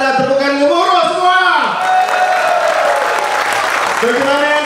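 A large crowd at a mass outdoor fitness event in Terengganu applauds and cheers under an amplified announcer's voice that carries on over the clapping.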